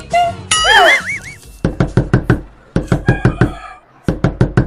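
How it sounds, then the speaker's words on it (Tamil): Rapid bursts of loud, sharp knocks pound on a house door at night in repeated fast volleys, following a brief rooster crow and cartoonish sliding tones in a comedy horror skit. "டேய் இந்த நேரத்துல யாரா வந்து கதவு தட்டுறது?"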